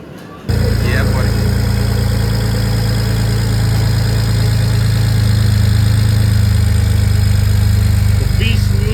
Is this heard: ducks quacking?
no